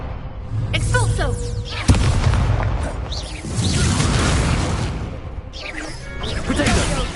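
Repeated Expulso explosion spells burst in Hogwarts Legacy, loud booming blasts and crashing impacts landing among continuous battle noise, with a sharp hit near the start and further bursts later.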